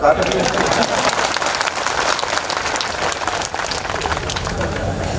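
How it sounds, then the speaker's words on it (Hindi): A large crowd claps loudly and continuously at an outdoor rally during a tribal fair, a dense wash of applause with faint voices and babble mixed underneath, holding steady throughout. "तो जोर से ताली बजा रहे"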